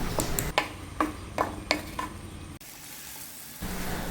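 Mango pickle spice mix with asafoetida being stirred in a pan, a run of sharp spoon scrapes and clicks over a soft frying sizzle, then the stirring stops and only a low hiss remains.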